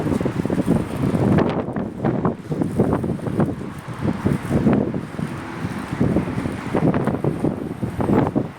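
Strong wind buffets the microphone in loud, continuous gusts, a rumbling roar that surges and eases throughout.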